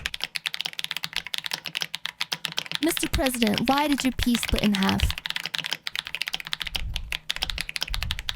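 Rapid clacking keystrokes on a mechanical keyboard fitted with Echo Lavender switches, light and crisp, close to the microphone, with a pause in the middle while a person talks.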